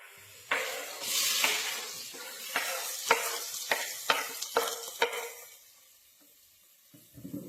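Onions fry in hot oil in a pan for chicken curry, a steady sizzle broken by a series of sharp scraping stirs of the spatula, close up and with no talking, fading toward the end.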